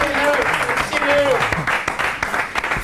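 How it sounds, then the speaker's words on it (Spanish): Studio audience applause on the Argentine TV show Mar de Fondo with a guest, a loud wash of clapping running beneath animated talking voices throughout. "¿Lo aplaudieron a Evaristo Hurtado o por qué no aplauden los palacios?"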